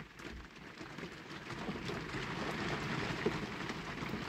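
Rain falls on a shed roof, a constant soft patter and hiss that holds steady throughout, heard faintly from indoors with no talking.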